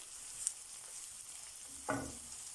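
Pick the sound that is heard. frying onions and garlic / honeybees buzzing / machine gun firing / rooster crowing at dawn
frying onions and garlic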